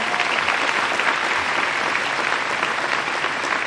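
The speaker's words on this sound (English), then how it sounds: "So big round of applause." Sustained, dense applause from a graduation audience at Osan American High School on Osan Air Base, loud and steady throughout with no pauses and no speech over it.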